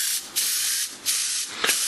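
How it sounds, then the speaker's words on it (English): Aerosol spray can hissing paint onto plastic miniature models, three steady bursts of close, broadband spray separated by short pauses, with no voices. "Alright, I'm going to spray right now."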